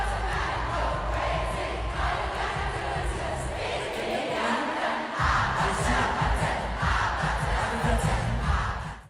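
A large concert crowd in France cheers and roars continuously as a song begins, a dense, loud wall of shouting and whooping that dips briefly midway before surging again.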